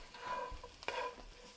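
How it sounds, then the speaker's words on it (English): Mushrooms and onion frying in a pan, a soft steady sizzle with a few stirring scrapes and clinks, close and moderately quiet, with no talking. "Oh, it's starting to sizzle."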